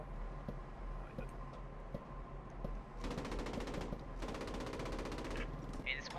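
Machine gun fire rattles out in two long rapid bursts in the World War II game Post Scriptum, heard from a German tank crew's position. It follows a few scattered single shots over a low engine rumble.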